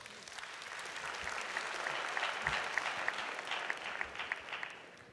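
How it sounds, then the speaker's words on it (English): Conference audience claps together in a warm, steady round of applause that swells and holds for several seconds, moderately distant, with a few sharper individual claps standing out. "Let's give her a round of applause."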